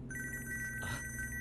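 A telephone rings in a film scene with a quiet, steady electronic trill in rapid repeating pulses, close but soft over a low background hum.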